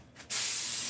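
Compressed air blasts from a shop air nozzle, starting abruptly after a brief quiet moment and continuing as a loud, steady hiss.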